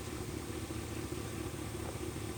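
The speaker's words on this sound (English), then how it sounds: "Here we have a Mahindra tractor." A Mahindra farm tractor engine idles with a steady, dense low rumble, close and unchanging throughout, with no talk over it.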